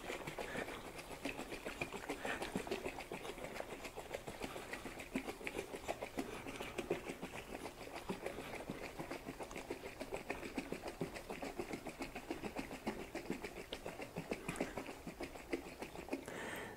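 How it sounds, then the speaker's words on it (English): A capped carboy of Chardonnay wine juice made from concentrate is shaken steadily, producing a continuous, fast sloshing and rattling texture that holds at an even level for the whole stretch, with no talking. "I'm going to go ahead and give this a good little shake for about a minute or so."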